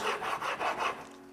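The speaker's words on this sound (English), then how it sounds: "I'm going to start with my fixer and open the structure of the stone. Round off the edges." Whetstone fixer rubbed back and forth to flatten and open a sharpening stone, four quick gritty scraping strokes in a steady rhythm, close and clear with no speech.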